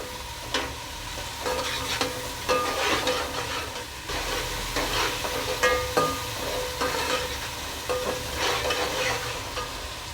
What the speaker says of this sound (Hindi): प्याज हमारी हो चुकी है, लहसुन अदरक भी हमने भून लिया है 1 से 2 मिनट।